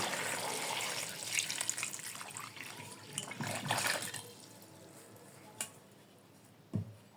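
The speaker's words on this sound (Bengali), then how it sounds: "এখন জলপাইয়ের মাঝে আমি দিয়ে দিব পর্যাপ্ত পানি" Water is poured into a bowl of olives, a close splashing gush that fills the first few seconds, then fades to quiet with a couple of light knocks.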